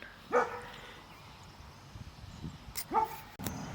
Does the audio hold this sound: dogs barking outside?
yes